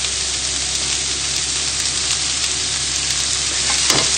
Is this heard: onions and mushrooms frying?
yes